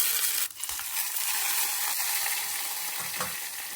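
Mustard seeds, dried red chillies, fenugreek and curry leaves sizzle and crackle loudly in hot coconut oil, a steady hiss with a couple of brief clattering stirs.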